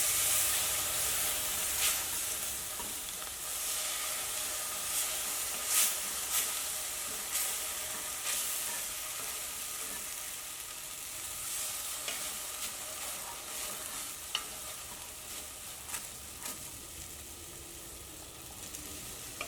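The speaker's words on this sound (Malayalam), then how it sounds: "അത് കുറേശ്ശെ പാല് ചേർത്തിട്ട് ഇളക്കി കൊടുക്കുക" Milk is added bit by bit to roasted semolina in a pan for a jaggery rava sweet, giving a continuous steamy sizzle with scraping stirring strokes, close and steady throughout.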